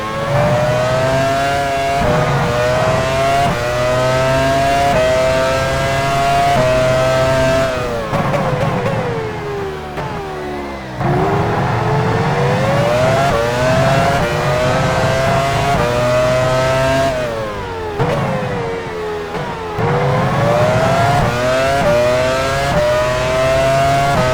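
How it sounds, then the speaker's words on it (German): A Formula 1 car in the F1 Challenge 99-02 racing game drives into the pit lane at Sepang in Malaysia, its high-pitched engine whining loud and close, rising and falling with gear changes and brief drops in revs. "Jenson Button fährt in die Boxengasse."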